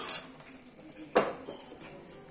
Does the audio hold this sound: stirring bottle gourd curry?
yes